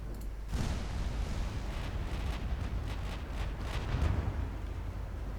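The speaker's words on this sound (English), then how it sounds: "I got 2 battleships firing at the enemy battlecruiser." Battleships firing heavy naval guns in Ultimate Admiral Dreadnoughts, set in 1959 China, a deep, rumbling barrage of distant booms that rolls on steadily, with a slightly stronger swell near the end.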